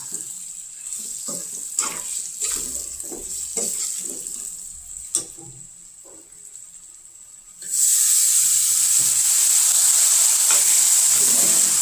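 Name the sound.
potatoes frying with turmeric, red chili and ground coriander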